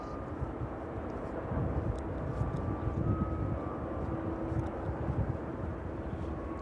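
A jet aircraft arriving at East Midlands Airport rumbles faintly in the distance, a low, steady roar mixed with gusting wind noise.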